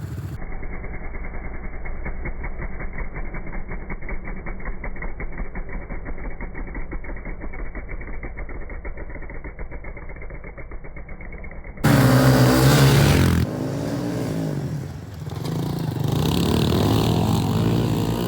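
A fuel-injected Honda CRF110 pit bike lined up for holeshot starts: the small engine buzzes steadily at idle, then suddenly revs loud and close as it launches, easing and climbing again.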